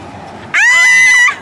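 A shrill, loud scream from a person bursts in suddenly after a quiet moment and holds for almost a second before stopping short.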